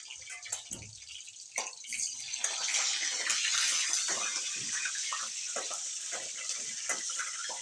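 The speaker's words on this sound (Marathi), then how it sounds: "हे वांगे तू हे भाजतीये तेलात" Eggplant frying in oil sends up a steady, fairly loud hiss of sizzling that builds and holds throughout, with occasional soft stirring scrapes.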